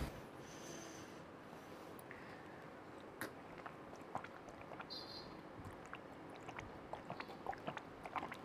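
Someone eating homemade vegetarian aloo posto, potatoes in poppy-seed paste, up close. Soft, quiet chewing and small wet crackles run throughout with no talking.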